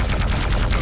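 Chain gun firing in a video game, a short, dense burst of rapid automatic shots that is loud and close.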